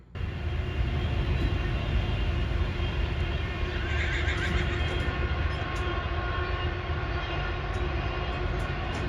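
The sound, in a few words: horses neighing on a farm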